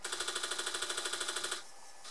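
Apple II floppy disk drive booting DOS 3.3, a rapid, even train of mechanical chattering clicks roughly a dozen per second, fairly loud and close, ending abruptly into a quieter steady whir.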